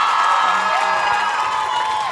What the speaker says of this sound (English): Can we give an amazing round of applause to SZA?